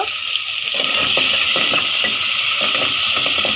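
Onions sizzle steadily in hot oil in a pan just emptied of fried eggs, a loud continuous hiss and crackle with a few soft stirring scrapes and no talking.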